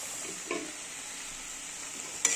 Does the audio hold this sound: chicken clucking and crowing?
no